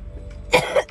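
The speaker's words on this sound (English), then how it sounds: "It's just this lingering cough in my voice." A single short cough, fairly close and moderately loud, from a person getting over a cold, alone with no talk.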